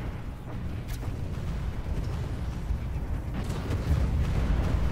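Battleships exploding in a space battle in the strategy game Stellaris: a steady rumbling wash of low booms and blasts, with a few sharper bursts rising over the continuous din.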